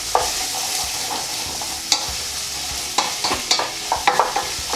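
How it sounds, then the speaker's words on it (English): Carrots and mixed vegetables sauté in hot oil with a constant, close sizzle, while a spoon stirs and scrapes against the pan in several sharp clacks. No one speaks. "I'll be sautéing them for just up to 5 minutes, just until they're all softened and ready to add the spices."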